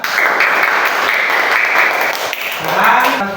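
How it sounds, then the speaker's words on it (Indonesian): Classroom applause for a student group presenting in a school lesson, a loud burst of clapping from many hands with a brief ping or tone and some voices near the end. "beri tepuk tangan untuk kelompok 2."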